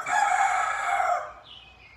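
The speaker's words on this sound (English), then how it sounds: "roosters don't only crow in the morning. They crow all the time." A rooster crows once in the late afternoon, one loud and clear cock-a-doodle-doo that fades near the end, with no voices.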